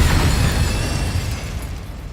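An Incendio fire spell cast in the Hogwarts Legacy video game bursts out as a loud, close whooshing blast of flame that fades over about two seconds.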